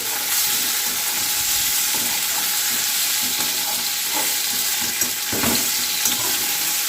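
Eggplant and potato pieces fry in a pan, a loud continuous sizzle broken by occasional stirring knocks and scrapes close by, with no one speaking.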